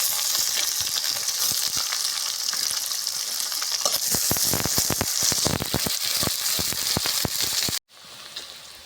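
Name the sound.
onions and green chillies frying in a pan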